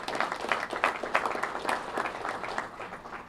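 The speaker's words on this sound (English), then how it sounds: "how about a round of applause for them as well" An audience at a gate opening ceremony at Redstone Arsenal gives a round of applause, a fairly quiet, even patter of many hands clapping at a distance with no talk over it.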